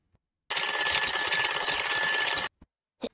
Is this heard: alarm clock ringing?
yes